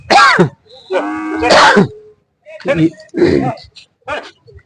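Cattle low in several separate bursts at a crowded cattle fair in Umadi, Maharashtra, close and fairly loud, with short gaps between calls.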